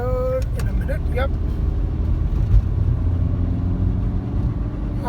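Road traffic on the Bangalore to Mumbai highway: a continuous low rumble of car and bus engines, steady and fairly loud, with a brief high squeal near the start and a faint thump midway.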